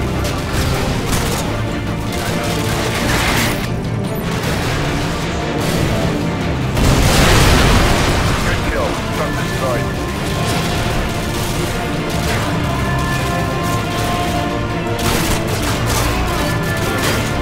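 AGM missile strikes exploding in Call of Duty Modern Warfare 2: a dense, loud barrage of booming blasts and gunfire-like crackle, with a heavier surge of explosions midway through, and no talking.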